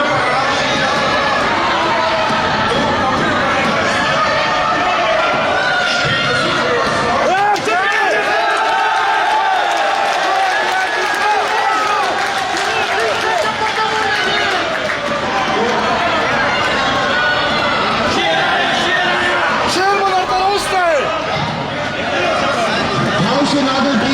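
Members of a provincial assembly break into loud commotion, a dense crowd of overlapping shouting and chanting voices filling the chamber throughout, with individual voices rising above the din.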